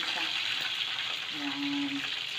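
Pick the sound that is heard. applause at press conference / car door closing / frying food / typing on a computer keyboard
frying food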